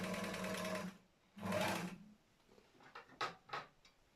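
A repaired Gemsy Gem 1 D three-thread overlock sewing machine stitches a piece of fabric. It runs quietly and smoothly in two longer bursts, then several short, quick runs with brief pauses between.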